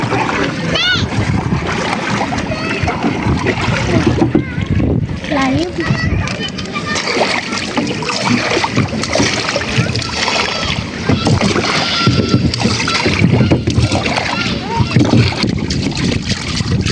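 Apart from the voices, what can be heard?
strong wind on open water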